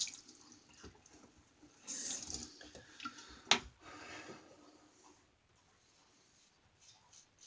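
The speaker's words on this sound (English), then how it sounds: "I don't know if you can hear the dog lapping up some water" A dog laps up water in quick, soft, wet splashes that come in bursts, with one sharper clink partway through, then fade into near silence.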